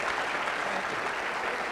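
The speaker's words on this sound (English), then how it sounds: "Let's have a great round of applause for Governor John Sununu." Sustained applause from an audience at a political talk event at Endicott College honoring Governor John Sununu, a steady dense wash of clapping with no voices.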